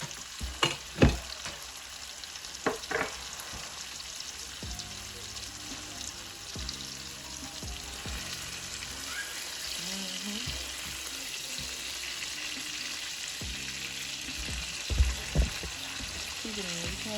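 Curry-coated chicken cooking in a covered pot, giving a steady hissing sizzle throughout with a few clanks and scrapes near the start and end, and light background sounds that stay faint.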